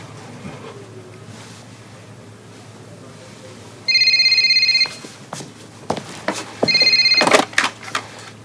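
A telephone rings in two bursts, each lasting about a second, with a quiet pause between them. Faint background noise sits under the rings, and a voice comes in briefly near the end.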